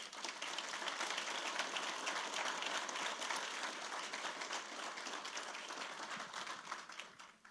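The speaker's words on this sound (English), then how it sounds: "Let's give a big round of applause to our judges, please." Audience applause for the judges at a live startup pitch competition fills the room, a dense sustained clapping that holds steady for several seconds before tapering off at the end, with no voices over it.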